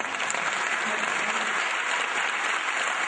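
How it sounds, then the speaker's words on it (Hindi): An audience at a patriotic Hindi poetry recital breaks into loud, sustained applause, a thick unbroken roar of many hands clapping close by, with no speech over it. "लेकिन ताली बजे तो सही, कहीं तो जवानी नजर आए, चलिए बजाइए एक बार अच्छी तरह"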